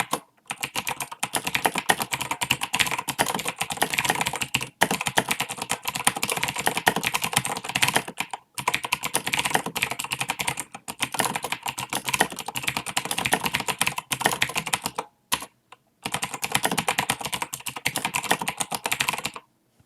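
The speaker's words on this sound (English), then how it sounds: "for this display message, we are going to want to type in our message, which is a welcome message to the player" Rapid typing on a computer keyboard, a dense run of close, crisp key clicks that continues for long stretches with a few brief pauses, no voices.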